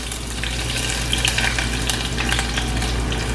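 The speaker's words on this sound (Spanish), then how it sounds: "Ok, vamos a colocarle la cebolla" Onion sizzles and crackles in a hot pan for Honduran-style pork, a continuous close frying hiss with scattered pops and bubbling.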